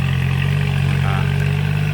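An orange tractor working a rice field runs with a steady, droning engine hum, continuous and fairly close, with no voices over it.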